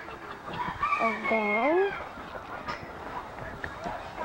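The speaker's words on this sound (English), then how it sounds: "these are all the chickens," Farm chickens, with roosters among them, call out at a pen in Trabuco Canyon. One clear crowing call rises over faint background clucking, with a person speaking briefly nearby.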